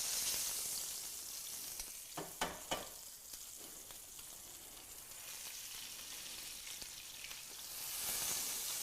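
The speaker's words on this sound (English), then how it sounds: "Just try to help it sear off a little bit." Meat sears in hot oil in a pan, giving a soft continuous sizzle with a few sharper pops and crackles, faint and close with no talking.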